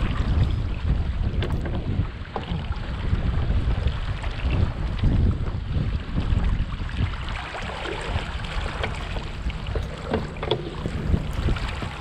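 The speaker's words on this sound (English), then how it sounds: "the wind here was quite fickle and gusty" Strong, gusty wind buffets the microphone while sailing a solo canoe rig in very strong winds, a loud continuous roar with surging rumbles and water wash around the boat.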